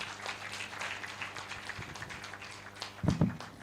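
Quiet, scattered clapping from a small audience at a medical symposium, thin and somewhat distant, with a brief louder thump near the end.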